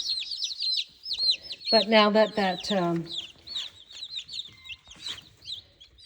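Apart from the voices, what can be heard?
young chickens clucking under a heat lamp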